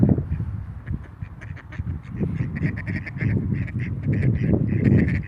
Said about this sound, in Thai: อันนี้เป็ดบ้าน